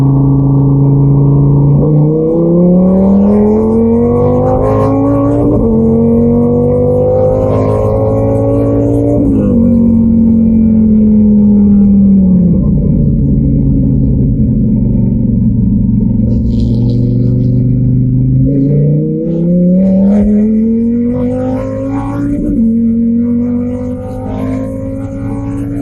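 A Dodge Viper with a naturally aspirated engine and drag pack makes drag passes, its engine roaring loud and close through repeated rising revs and gear shifts for nearly half a minute, with no talking.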